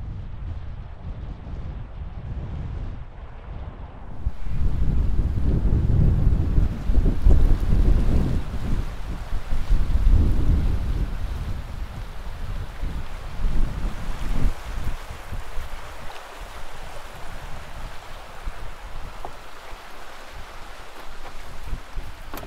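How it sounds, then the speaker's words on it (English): Strong wind gusts roar and buffet the microphone for several seconds in Red Canyon, Utah, a loud low rumble that later eases into a lighter, steady rushing. "It is windy."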